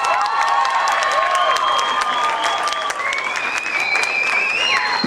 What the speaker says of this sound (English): they deserve a bigger round of applause than that